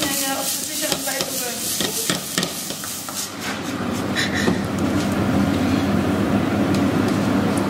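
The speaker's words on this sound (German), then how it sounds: "ich rühre das jetzt einfach nochmal um und lasse das auch nicht aufkochen" A spoon stirring sauce in a pot while making pinsa, scraping and clinking strokes at first, then settling into a continuous loud sizzling, bubbling wash close up.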